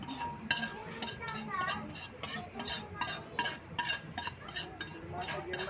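Crab is added to a pot of mung bean stew with pork. Repeated clinks and scrapes of a utensil against the pot sound close by, with some quiet talking.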